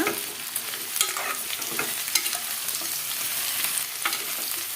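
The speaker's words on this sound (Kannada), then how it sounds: "ಇದನ್ನು ಕೂಡ ಚೆನ್ನಾಗಿ ಫ್ರೈ ಮಾಡ್ಕೊಳ್ಳೋಣ ಇವಾಗ" Chopped radish frying in a pan, a soft, steady sizzle with frequent scraping stirs and light utensil taps close by.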